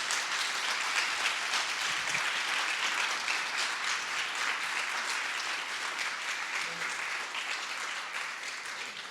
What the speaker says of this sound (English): I propose we actually start with an applause to all the defenders